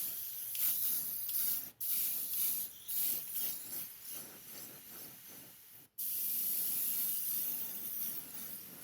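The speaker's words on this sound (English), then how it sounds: "You're basically spraying water." An airbrush sprays thinned acrylic paint onto a 1/6-scale figure shirt, a steady close hiss with short pulses, broken by two brief stops in the airflow.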